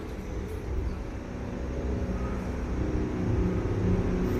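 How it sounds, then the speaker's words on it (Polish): Heavy trucks rumbling around a park in Manhattan, New York, a low continuous traffic drone that builds slightly, steady and moderately loud with no talking. "jak słyszycie jest mnóstwo ciężarówek wokół"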